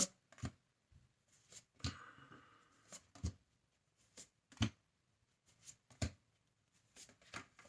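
Tarot cards are laid out one by one on a table, a handful of sharp close slaps and flicks spaced by quiet pauses, with a brief shuffle among them and no talking.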